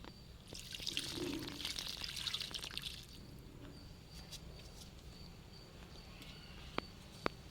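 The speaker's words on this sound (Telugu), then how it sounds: "నీళ్ళు వేసుకుందాం." Water is poured into a plant pot around a freshly planted ivy gourd cutting at a plant nursery. A steady, close splashing pour lasts about three seconds, then fades to quiet with a couple of faint drips.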